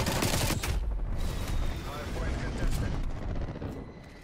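LAPA submachine gun fire in Call of Duty Cold War, a dense burst of rapid shots at the start that settles into a continuous loud gunfire clatter and booms with faint voice underneath.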